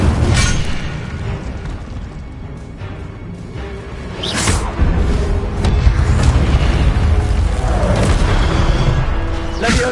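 An Incendio fire spell cast in Hogwarts Legacy, heard as a steady roaring whoosh of flames with booming bursts throughout, continuous and loud. Speech blends into the game sound.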